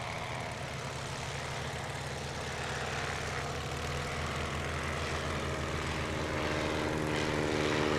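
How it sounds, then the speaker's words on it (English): World War I Nieuport airplanes taxi at an air show at the Golden Age Air Museum. Their propeller engines give a steady, close, rumbling drone that slowly grows a little louder throughout. "As the Nieuports taxi up here, they're going to taxi into a little line, straight line."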